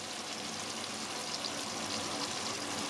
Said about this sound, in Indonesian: Kita tumis dulu sampai harum